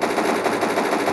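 Rapid automatic gunfire in a zombie-shooting video game, a dense continuous burst that stays loud and close for its whole brief length with no talking.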